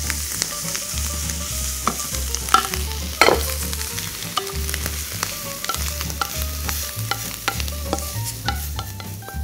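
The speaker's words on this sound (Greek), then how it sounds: "να τα ρίξουμε μαζί με αυτό να τα αφήσουμε να σοταριστούν όλα μαζί για 1 λεπτό" Leeks and smoked pork sizzling together in a pan for quiche Lorraine, a steady close fry broken by repeated scraping stirs and a few sharp clicks of utensil on metal, with no voices.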